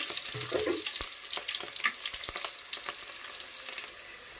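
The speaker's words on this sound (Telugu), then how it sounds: "ఇప్పుడు ఆవాలు వేసేసుకుందండి పచ్చిమిర్చి ఆనియన్ వేసేస్తుంది" Mustard seeds, green chillies and onion crackle and sizzle in hot oil with cumin, a close, fairly quiet frying hiss with scattered sharp pops and a few stirring clinks.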